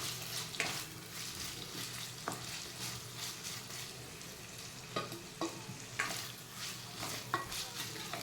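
Ginger and green chillies sizzle loudly in a hot pan, with a dense hiss and several sharp scraping stirs spaced a second or two apart, and no voices.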